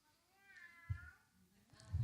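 A person imitates a cat meowing, producing two short meow-like calls with a pause between them, each rising clearly above a quiet background.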